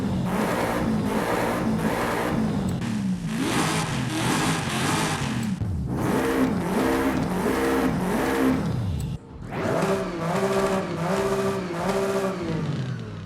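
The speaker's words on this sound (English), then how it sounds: "I'll rev them up and let me know which one sounds the best." Subaru S209 car engines in Forza Horizon 5 rev hard in repeated bursts, pitch climbing and falling through the gears, loud and close with no talking, separated by a brief pause.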